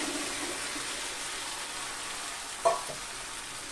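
Fried soybean chunks, potato and jackfruit seeds hit hot masala in a pan, giving a steady sizzle with a brief splash-like burst near the end and faint stirring, no talk.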